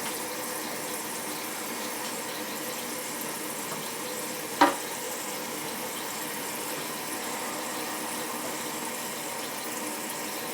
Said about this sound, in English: You can see how that's filling up the water.